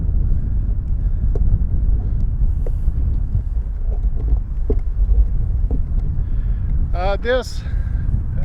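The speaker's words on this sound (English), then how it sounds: "And we're getting some wind." Wind rumbles and buffets steadily against the microphone at an outdoor cemetery, with a person talking over it throughout.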